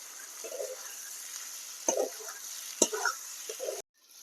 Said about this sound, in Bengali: পটলটাকে দিয়ে আমি নেড়ে চেড়ে দু মিনিট এটাকে আরো একটু কষাবো